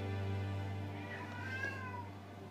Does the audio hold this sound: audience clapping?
no